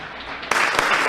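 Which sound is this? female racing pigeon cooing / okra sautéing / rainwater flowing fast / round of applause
round of applause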